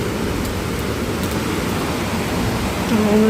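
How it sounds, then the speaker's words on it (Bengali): Heavy rain pours during a thunderstorm in Malaysia, a steady, dense, close hiss that holds at one level throughout, with a slight swell near the end. "প্রচুর বৃষ্টি"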